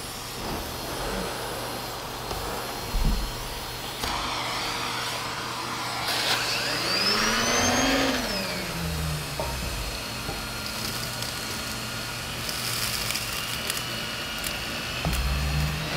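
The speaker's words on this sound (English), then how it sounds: "we're going to use the turbo tool on my plush, soft carpet" Henry PETCARE canister vacuum with a turbo tool working plush, high-pile carpet, a loud continuous whining roar throughout with a rising and falling pitch sweep midway as the tool moves.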